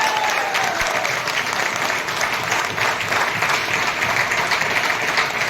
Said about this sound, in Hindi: इसलिए अपने लिए एक बार जोरदार ताली होनी चाहिए।